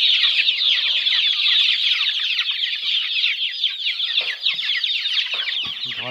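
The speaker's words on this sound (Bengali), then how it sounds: "দেখেন আমার মুরগিগুলো সুন্দর খাচ্ছে।" A flock of mixed-breed chickens feeding together gives off a dense, constant chorus of high chirps and clucks, with a few lower clucks standing out near the end.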